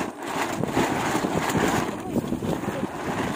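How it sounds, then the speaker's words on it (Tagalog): Strong wind blows outside a hut under construction, a steady loud rushing gust buffeting the microphone throughout with faint voices underneath. "Sobrang mahangin sa labas"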